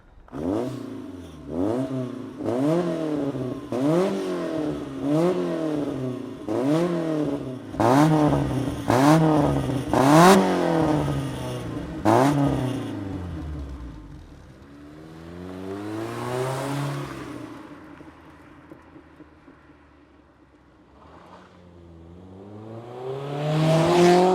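A 32-year-old Japanese-import BMW E30 M3 revs hard through repeated gear changes while driving, each pull rising in pitch and snapping off at the shift, then easing to a lower drone before building again at the end.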